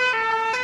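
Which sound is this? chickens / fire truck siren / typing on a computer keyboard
fire truck siren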